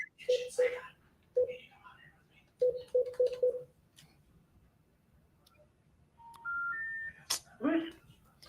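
Touch-tone phone dialing a number: a run of short, evenly spaced beeps, with a few rising call-progress tones near the end, nearby and fairly faint, alongside a voice at the start and end.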